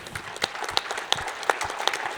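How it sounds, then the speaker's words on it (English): A small audience claps for Cindy and her team at a soil health conference panel, the separate claps scattered and uneven over a soft background wash, fairly close and moderately loud. "Let's just give them a big round of applause right now"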